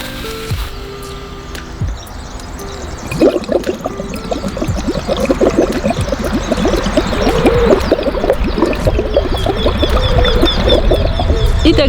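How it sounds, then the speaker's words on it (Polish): Air blown through a tube into a bottle two-thirds to three-quarters full of water makes dense, continuous bubbling that grows steadily louder and busier during a breathing exercise, close up with no talking. "jest ćwiczenie wydmuchiwania powietrza przez rurkę do butelki 2 trzecie, 1, 3 czwarte napełnione wodą"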